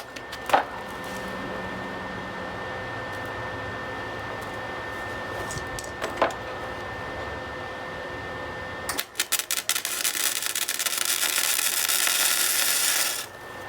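Arc welding on a motorcycle sidecar mount, longer than tack welds: a few clicks and taps, then a loud, continuous crackling and sizzling burst of several seconds close by.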